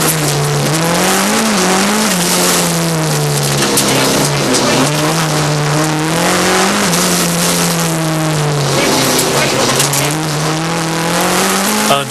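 A rally car on a slippery low-grip stage at the Mull Rally 2007 revs hard and loud, its engine note rising and falling as it slides, with bursts of wheelspin and scrabbling tyres throughout.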